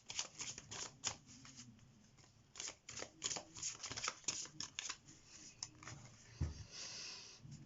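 Oracle cards shuffled by hand in a pick-a-card reading: a quick run of papery riffles and soft slaps, close and fairly quiet, coming in bursts with brief pauses and a thump near the end.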